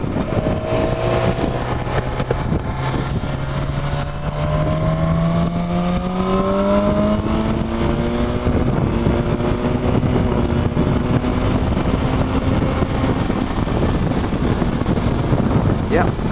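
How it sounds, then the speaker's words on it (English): A BMW S1000XR motorcycle accelerates hard on a dual carriageway, its engine note climbing repeatedly through quick-shifted gears under heavy, constant wind rush at the rider's helmet. "hopefully you heard that quick shifter. It works really nicely, it's nice and smooth, and the great thing about it is it works up and down"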